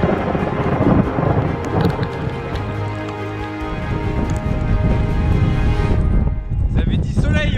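Thunder rolls through a mountain storm in the Cirque du Fer à Cheval, with loud crackling rumbles and rain noise while people talk over it.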